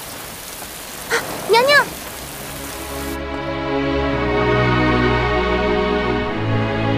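Heavy rain falls in a Chinese historical TV drama scene, a steady broad hiss that swells after a brief spoken word and then continues evenly.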